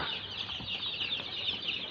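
One-week-old chicks in a rice-husk-littered pen give a dense, continuous high peeping chorus at moderate level.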